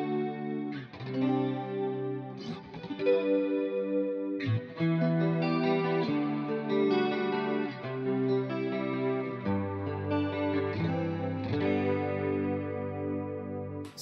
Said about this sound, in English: Snapshot 5 is the chorus and reverb.